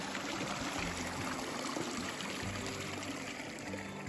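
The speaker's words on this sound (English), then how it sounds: "look back at that stream here again" A steady, close rush of a stream of water running onto a Newfoundland beach, continuous and even throughout with no voices.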